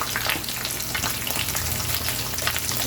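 Corn tortillas crisp in a hot pan for huevos rancheros, giving a loud, steady, close sizzle with dense crackling throughout and no talk.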